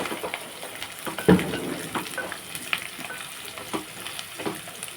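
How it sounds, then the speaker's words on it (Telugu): Dry broken rice grits scrape and sizzle in a hot pan as they are stirred and roasted for upma, with a brief louder scrape near the start, steady and close. "బాగా వేగుతుందట"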